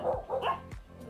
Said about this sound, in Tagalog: Alright, so maraming aso.